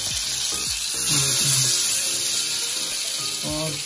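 Marinated tawa chicken sizzles in butter on a hot griddle over a medium flame, giving a steady, close hiss of frying that swells briefly midway, with a voice speaking intermittently over it.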